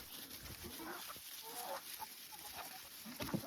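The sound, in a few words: chickens clucking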